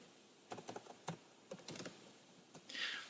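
Typing on a computer keyboard while filling in an hourly pay rate field: a quiet, close run of irregular key clicks in short bursts, with a slightly louder clack at the end.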